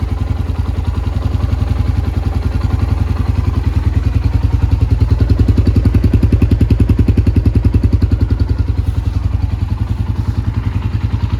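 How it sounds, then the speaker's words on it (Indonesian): A 2004 Suzuki Thunder GSX 250 motorcycle engine idling close by with a steady, even putter that stays constant throughout, with no voices. "Ini suara mesinnya."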